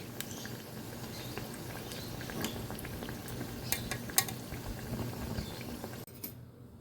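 Jute leaf pakoras fry in hot oil with a steady, fairly quiet bubbling sizzle, punctuated by a few light clinks of a utensil against the pan.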